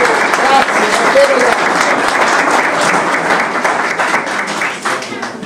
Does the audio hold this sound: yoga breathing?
no